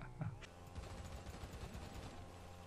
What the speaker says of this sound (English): Hey, don't shoot at me.